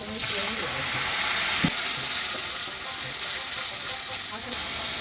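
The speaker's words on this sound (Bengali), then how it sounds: "এখন কড়াইয়ের মধ্যে দিয়ে দেবো সামান্য পানি" Spices and onions hiss and sizzle in a hot wok after a little water is added for a potato and bean dish, a steady close broadband frying sound with faint clatter throughout.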